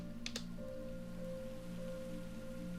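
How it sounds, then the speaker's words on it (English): Heavy rain falls steadily in Minecraft with the Dynamic Surroundings mod, a soft, even hiss that stays quiet and constant throughout, with a faint hum beneath it and no speech. "Definite increase in sound and amount of rain coming down."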